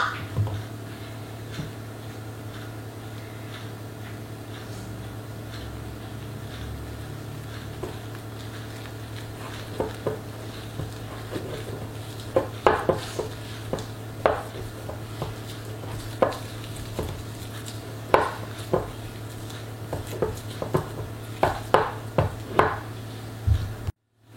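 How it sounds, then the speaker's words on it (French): Rye flour and water being stirred together in a jar for a sourdough starter, giving soft scraping and tapping strokes that grow more frequent and distinct in the second half over a steady low hum. "on mélange simplement pour que toute la farine soit bien humide"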